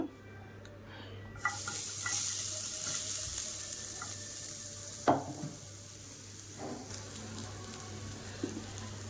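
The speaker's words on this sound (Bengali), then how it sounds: "কড়াইটা গরম হয়ে গিয়েছে। এখন আমি নারিকেল কুড়ন্টাইন দিয়ে দেব।" Loud hiss and sizzle as grated coconut hits a hot wok, followed by steady frying crackle and occasional stirring scrapes.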